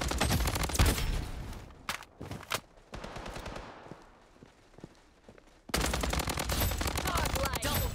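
Automatic rifle gunfire from the Bloodstrike Mobile video game rattles in long rapid bursts, loud and close, with a quieter stretch of scattered single shots and footsteps before a sustained burst resumes.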